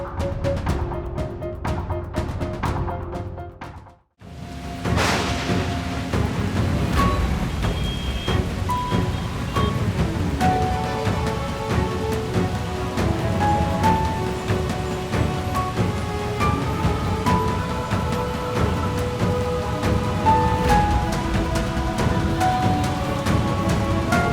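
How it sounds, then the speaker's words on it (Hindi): Heavy rain pours down steadily in a city where streets are flooding, a loud, dense wash that fills the whole stretch after a brief drop near the start, with a few faint tonal sounds mixed in. "तेज बारिश हो रही है।"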